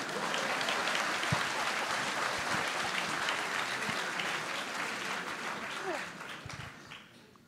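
An audience in a hall applauds during an evening talk at the ESSEC business school, with steady dense clapping that holds strong, then thins and fades toward the end.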